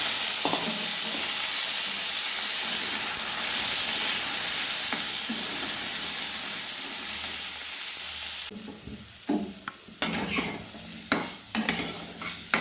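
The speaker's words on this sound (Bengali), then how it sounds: "এবার কড়াইয়ে তেল গরম করে নিয়েছি পটলগুলো আমি ভেজে নিয়েছি" Pointed gourd (potol) pieces frying in hot oil in a wok, giving a steady, loud sizzle and hiss that breaks near the end into a few sharp clinks and scrapes of stirring.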